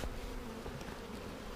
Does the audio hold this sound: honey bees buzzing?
yes